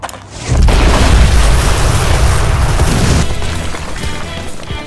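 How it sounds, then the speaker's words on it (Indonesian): A film explosion collapses an entire room: a huge, close, deep boom erupts and rumbles on as a sustained roar of debris and crumbling structure, slowly easing but still loud at the end. "tiba-tiba saja terjadi ledakan yang membuat seluruh ruangan runtuh."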